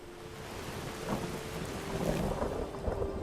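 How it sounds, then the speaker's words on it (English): Rain falls steadily with low rolling thunder in the fantasy game Enderal: Forgotten Stories, a faint, soft wash of rain with distant rumbles and no voices. "It's also hard to see because of the rain."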